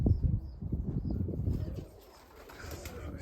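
Pigeons flutter and flap around a dovecote as they fly and land, with close wingbeats and rustling over a steady outdoor background.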